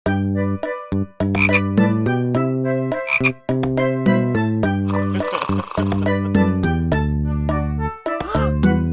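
Loud, deep, strongly pitched frog croaks repeat in a musical sequence for a children's nursery rhyme about speckled frogs, with a bright rattling burst midway and no speech.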